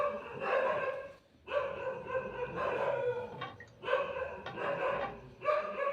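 A dog barks in a series of drawn-out, tonal bursts, about five in a row with short gaps between them, moderately loud against a quiet background.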